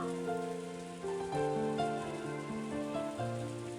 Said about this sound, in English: the obnoxious pounding of the rain against the window